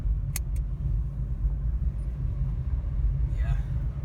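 Acura RSX engine idling inside the car after a shifter spring install, a low steady rumble with a couple of brief clicks, while people talk over it.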